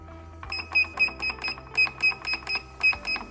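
A Reliable 8100DT drapery tacker sewing machine running its tack cycle and automatically cutting the thread, giving a steady run of about ten evenly spaced mechanical clicks close up, with no talking.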